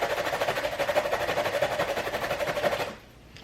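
Fresh ginger and garlic are grated against a grater in rapid rhythmic strokes, a close, steady scraping that runs for almost three seconds and then stops.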